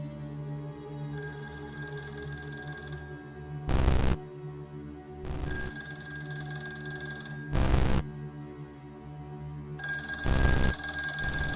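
A telephone rings in the Call of Dudley video game inside a garish labyrinth. Sharp, loud bursts repeat at uneven intervals over a humming, tonal background, and no one talks.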